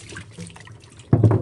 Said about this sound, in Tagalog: Hugasan natin to guys ng mabuti.